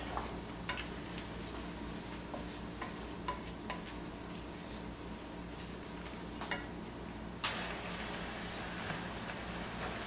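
Wine deglazing a pan of vegetable succotash simmers with a soft, steady sizzle and bubbling, close and quiet, broken by a few small clicks and a brief louder stir near the end.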